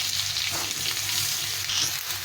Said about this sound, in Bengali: পটল আর ঝিঙেটা দিয়ে ভালো করে একটু ভেজে নেব।